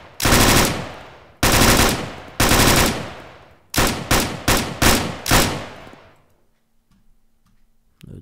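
An RPK machine gun in Arma 3 fires three loud, separate reports with ringing tails, then a quicker run of five shots, before the echo fades to near silence and a faint hum, with one more shot at the very end.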